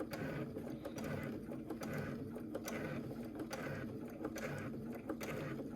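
A sewing machine stitches a thick seam on a cosmetic bag, running steadily and close with a continuous mechanical whir and rapid needle chatter, briefly strained through the heavy layers.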